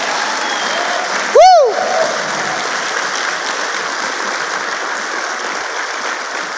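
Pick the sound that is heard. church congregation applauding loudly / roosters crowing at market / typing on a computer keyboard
church congregation applauding loudly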